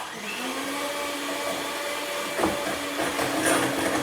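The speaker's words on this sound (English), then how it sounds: "breaking up the egg yolks, the sugar's whisking in" An electric whisk beats eggs and sugar for a cherry and chocolate Swiss roll, a steady close motor whir with a constant pitch that runs continuously with slight wobbles in tone.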